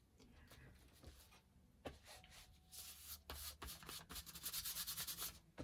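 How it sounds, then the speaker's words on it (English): A cloth rubs excess glue off a strip of lace in a quiet crafting setting, a soft, scratchy friction that starts faint, then grows into quicker, louder strokes near the end. "I have a cloth on my lap that I'm rubbing the excess off with"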